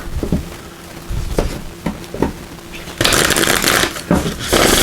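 Oracle cards are riffled and shuffled in bursts, with soft clicks and a louder, continuous flurry of shuffling toward the end; no voices.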